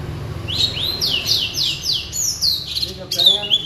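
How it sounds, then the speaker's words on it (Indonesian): A songbird kept by a feed seller in a cage-bird setting sings a canary-like song of quick rising whistled phrases in a repeated series, with a voice murmuring underneath. "Niruin kenari. Suaranya mulai kenari Mas."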